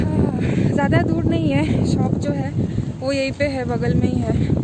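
Steady wind rushes across the microphone with a broad roar, while someone talks close by throughout.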